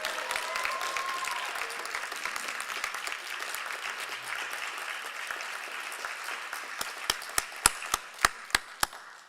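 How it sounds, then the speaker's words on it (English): Audience applause at a Governors State graduation ceremony, a dense sustained clapping from a large crowd that thins toward the end into a few sharp, isolated loud claps. "Can you show by applause what this has meant from this group that is standing?"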